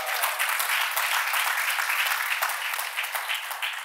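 A church congregation claps hands in dense, continuous applause, loud and close, with no voices rising above it.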